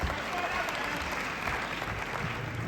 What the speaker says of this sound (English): Let's clap our hands. Give it up for him.